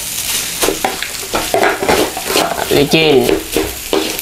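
Sausage fried rice (nasi goreng) being stir-fried in a pan, a steady loud sizzle with scraping and stirring scrapes, under occasional talk from a nearby voice.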